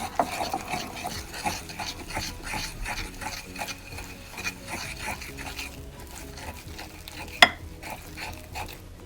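Gram flour batter for aloo pakora is whisked in a bowl, giving steady rhythmic wet scraping and slapping strokes at close range with one sharper knock near the end, no voices.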